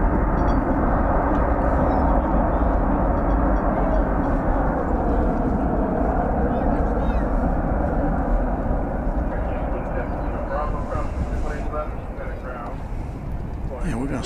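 An airliner on a flight from Madrid rumbles steadily and fairly loud, the low engine roar easing slightly toward the end, with a voice talking over it.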